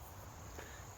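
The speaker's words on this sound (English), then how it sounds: "There's a giant hornet buzzing around." A giant hornet buzzes around outdoors at a field where a rubber-powered model airplane is flown, a steady faint insect drone close by and alone.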